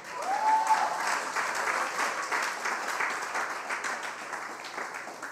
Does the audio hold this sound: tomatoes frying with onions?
no